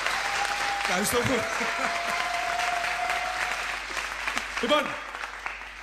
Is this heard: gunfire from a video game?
no